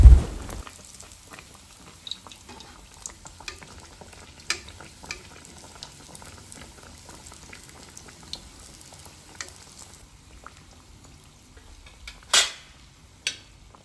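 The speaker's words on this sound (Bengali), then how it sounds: "এক এক করে সবগুলোই আমরা ভেজে নেব।" Chicken balls deep-fry in oil with a faint, steady bubbling sizzle, dotted with occasional soft pops and a few sharper clicks of a utensil.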